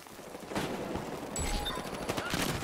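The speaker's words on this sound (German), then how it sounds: "Da fliegen überall Granaten oder sowas." Grenades bursting amid heavy gunfire in the shooter game Battlefield Hardline, loud and dense, with rapid shots and booming blasts layered over one another and no talk.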